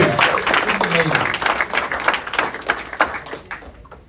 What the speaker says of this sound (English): Let's give a round of applause for Storm Lake.